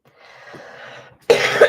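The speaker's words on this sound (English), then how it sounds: "Excuse me, I've been doing a lot of coughing today." A sharp, close cough bursts out loudly after a soft breathy lead-in, one forceful hacking expulsion with a second push at the end.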